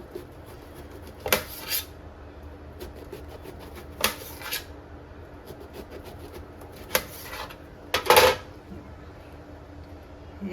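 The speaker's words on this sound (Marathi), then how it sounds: "आणि वांगे कापून घ्यायचे. आता पातळ पातळ स्लाइस करायचे." A knife slices an eggplant into thin rounds on a kitchen board, giving a few sharp, separate cuts and board knocks spread out over quiet background noise.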